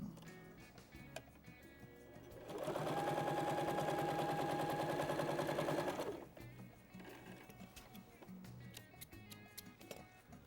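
A sewing machine stitches strips of a twist-technique table runner, its steady mechanical whir running loud and continuous for about three and a half seconds amid quieter handling noises before and after.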